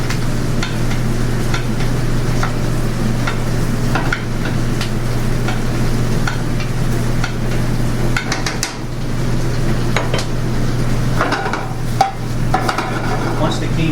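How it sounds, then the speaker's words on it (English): Hot butter and herbs sizzle and spit steadily in a pan as a thin-bodied bass fillet is basted, with spoon scrapes and clinks over the constant frying hiss; a voice talks over it. "basting it with the hot butter and herbs not only flavors the fish"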